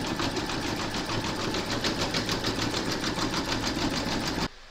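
An embroidery machine zigzag-stitches round the raw edge of a paw-shaped coaster, a fast, steady mechanical pulse of needle strokes that runs close and loud, then cuts off just before the end.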